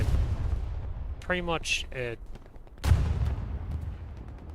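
Artillery fire in the World War II shooter game Hell Let Loose: low, rumbling booms roll in the background, with a sharper impact near the end, while someone talks over the barrage.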